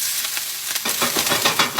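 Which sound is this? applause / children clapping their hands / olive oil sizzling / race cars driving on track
olive oil sizzling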